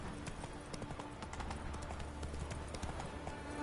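Roach the horse galloping in The Witcher 3 on PS4: a quick, even run of hoofbeats pounds steadily throughout, moderately close and alone without speech.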